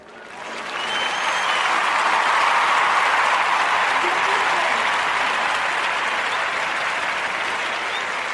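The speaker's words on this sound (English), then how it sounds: "I want to go ahead and have the audience give them a round of applause" A studio audience gives a round of applause, clapping swelling in over the first second and then holding at a dense, steady level to the end.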